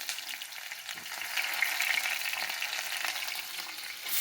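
Onions and green chillies sizzling in hot oil as the tempering for sambar rice, a steady close crackle and hiss that swells slightly midway and continues without talk.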